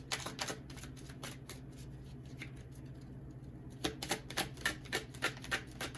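Tarot cards shuffled by hand in quick riffling bursts, a clustered run early on, a quieter lull, then another flurry of crisp snaps and slides, close and clear over a low steady hum.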